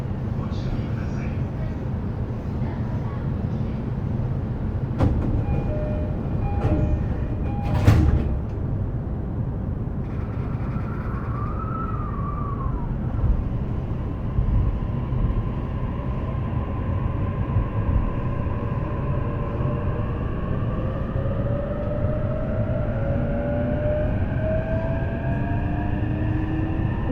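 A JR E233 series train runs on the Takasaki Line between Kumagaya and Takasaki, a steady low rumble of wheels and motors heard from inside the car, with a brief sharp clank and rising motor whine as it gathers speed.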